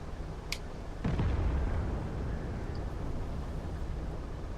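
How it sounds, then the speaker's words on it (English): Thunder from a storm outside: a sudden crack followed by a deep rolling rumble that fades over a few seconds against a steady background. "it's like actually storming now. Like full-on storm."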